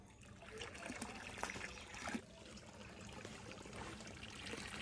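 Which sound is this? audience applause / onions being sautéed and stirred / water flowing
water flowing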